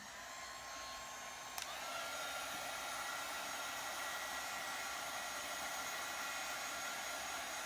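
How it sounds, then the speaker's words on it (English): Embossing heat gun drying wet ink on a craft transfer, a steady whooshing blower hum with a brief click near the start, continuous and close. "I'm going to go ahead and dry it with my embossing gun"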